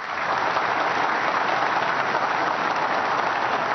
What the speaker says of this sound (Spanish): un caluroso aplauso también.